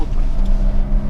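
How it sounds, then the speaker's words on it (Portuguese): A Jeep Renegade 4x4 diesel engine runs off-road with a deep, loud, steady drone that rises slightly as it accelerates across a short stretch. "Você vê que você dá uma aceleradinha, o diesel já tem uma resposta muito boa"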